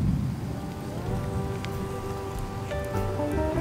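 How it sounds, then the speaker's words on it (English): Rain pours outside on a barbecue evening at Fort Wilderness Resort, a constant close hiss of drops on surfaces, with faint tonal hums rising toward the end. "it's still raining out."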